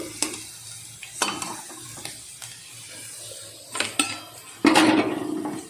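Mourala fish fry in a pan with a steady sizzle, broken by repeated clinks and scrapes of a utensil against the pan, and a louder burst of sizzling near the end.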